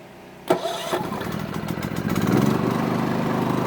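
A small gasoline engine, choke pulled out, is pull-started with a sharp crank, catches and sputters, then settles into a steady close running drone.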